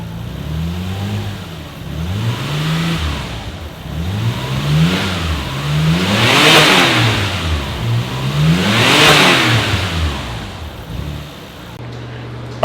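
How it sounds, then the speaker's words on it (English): A Nissan Skyline R33 GT-R Vspec on stock intakes, engine revved repeatedly from idle: several rising and falling swells, the two strongest peaking near the middle, close and loud, settling back to idle at the end. "that was stock revs"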